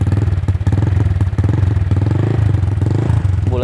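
A Honda Vario scooter engine runs close by with a rough, pulsing idle and light throttle blips that rise and fall, loud and steady throughout.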